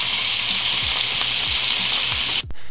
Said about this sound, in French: on va saisir le rôti dans une huile bien chaude